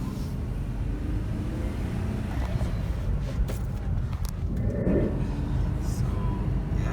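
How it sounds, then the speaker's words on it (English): Interior drone of a 2007 Mercedes-Benz C230 with a six-speed manual gearbox being driven, a steady low engine and road rumble with some wind buffeting and faint handling noises. "I want to let you guys see me drive the car a little bit."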